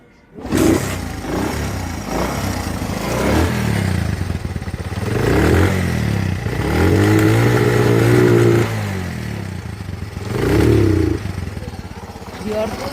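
A secondhand Honda 80cc motorcycle engine kicks into life and idles with a rattling putter, rising into a few revving bursts before settling back.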